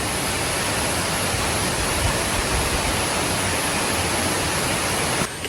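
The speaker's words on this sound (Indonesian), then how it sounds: "Air terjunnya ini salah satu air terjun terderas ya yang pernah kami datangi" A powerful waterfall at Curug Cibareubeuy in Ciater roars as a steady, dense rush of falling water, loud and close with no talking, breaking off abruptly at the very end.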